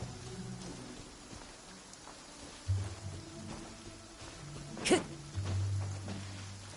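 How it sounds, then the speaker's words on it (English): Downpour rain in the Genshin Impact video game, a steady hiss of falling rain across the whole span with a few louder splashes and one sharp burst near the middle. "Taking a stroll in the middle of a downpour certainly rouses the spirit"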